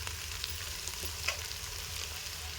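Amaranth greens palya sizzles softly in a pan with fried seasoning while occasional light stirring scrapes sound close by, quiet and brief, with no talking.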